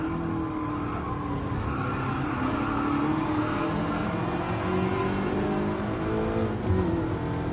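A Ferrari race car engine roars loudly and continuously in Gran Turismo Sport, its high revving note shifting pitch through gear changes while tires squeal faintly underneath, close and without talk.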